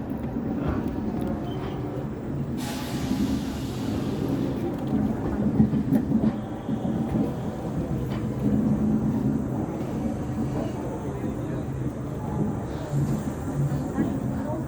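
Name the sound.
Amrit Bharat Express train departing slowly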